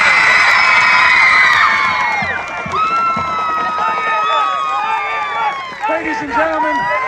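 A stadium crowd at a Shamokin Indians versus Shikellamy Braves high school football game cheers and whoops for the newly crowned 2020 homecoming queen. The cheering is loud and sustained, with shrill voices and whistles on top and an announcer speaking over it.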